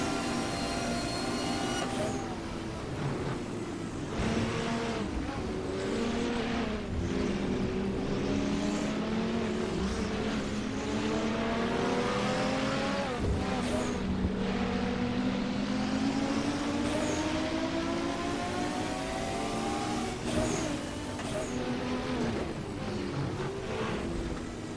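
BMW M1 race car lapping Spa in Assetto Corsa, a fairly quiet, steady engine drone whose pitch sweeps up and down through repeated gear changes, with brief sharp bursts scattered across the run.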